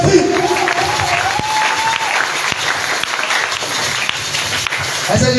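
A church congregation claps and cheers in continuous, lively applause at a service, with a sustained crowd roar and a voice briefly audible over it.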